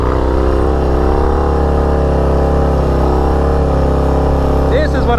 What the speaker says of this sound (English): Let me try a wheelie here real quick